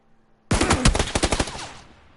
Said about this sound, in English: That was a headshot.